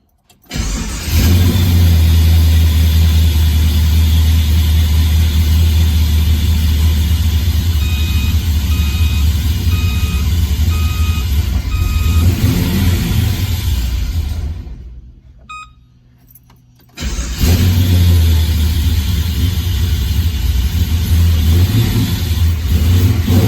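An LS1 V8 engine cranks and fires, then idles loudly and revs up, cuts out briefly and restarts, with a few beeps heard early on.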